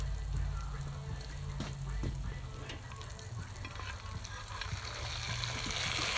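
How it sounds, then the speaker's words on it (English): Porterhouse steak sizzles steadily in a hot pan while being basted with a spoon, a dense, continuous crackle and spatter with small pops and scraping clinks, close and fairly loud throughout. "I'm gonna work on basting the steak"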